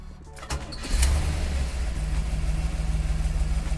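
A 1969 COPO Camaro replica with a 427 V8 cranks and fires up, catching with a thump after a second and settling into a deep, loping, rhythmic idle, close and fairly loud.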